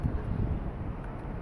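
Low, gusty wind rumbles and buffets a nearby microphone on a building's rooftop deck, a muffled blustery roar with uneven puffs.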